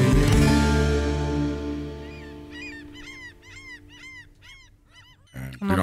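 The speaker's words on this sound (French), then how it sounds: "Tu entends les mouettes à Palavas et Flo, là?" Seagulls at the seaside in Palavas give a series of repeated squawking calls, fairly near and distinct, following a fading low drone, with a louder burst at the very end.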